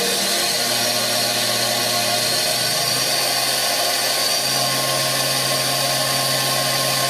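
A Daewoo DMV5025-50 CNC vertical mill spindle whirs loud and steady with a bright high whine, its low hum stepping up in pitch partway through as the speed climbs.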